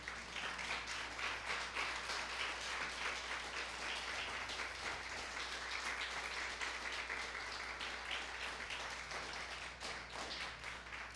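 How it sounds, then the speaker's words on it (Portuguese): A church congregation at El Shadai Church applauds the Lord with sustained, busy clapping that holds at a steady volume for over ten seconds, with no speech over it. "Vamos aplaudir ao Senhor?"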